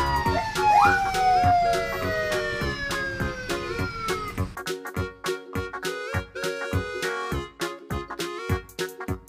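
A police car siren wails in rising and falling sweeps, loud and close, then gives way to a bouncy, rhythmic music track.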